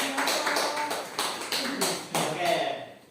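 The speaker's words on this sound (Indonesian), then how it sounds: "Kasih tepuk tangan untuk kelompok 2." Classroom applause for a student group after a micro-teaching presentation on beginner electric motor installation, a short burst of scattered hand claps from a small group, fairly close, with a voice speaking over it.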